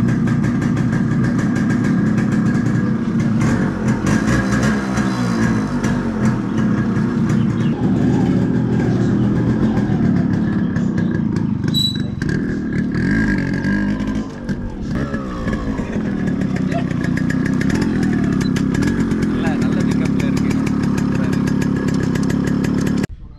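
A Yamaha RX-135 two-stroke motorcycle idles nearby with a steady, buzzy, slightly uneven burble over more than twenty seconds, with faint background sounds.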